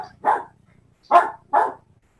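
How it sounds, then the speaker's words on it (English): A dog barks three times, once alone and then a quick pair, moderately close and clear against a quiet background on a remote meeting call. "I hear a dog."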